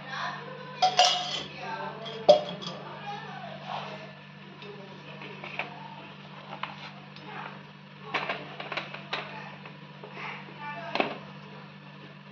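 Pots and utensils clinking in a kitchen while oil goes into a pan for an egg gravy, scattered metallic taps and clanks over a low steady hum, with a person talking at times.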